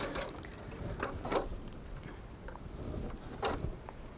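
A sewing machine works slowly along a two-piece sleeve seam near the vent, giving soft, uneven mechanical clicks and ticks at low volume with a faint hum beneath, and no voices.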